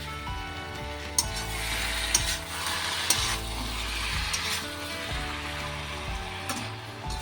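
Nutrela soy chunks frying in masala in a pan, a continuous sizzle with periodic scraping stirs and a few sharp utensil clicks, close up, with a low mechanical hum underneath.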